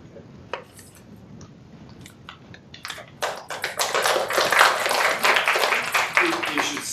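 Symposium audience applauding a speaker, scattered hand claps that start sparse and build into a fuller, sustained round of clapping from a modest room.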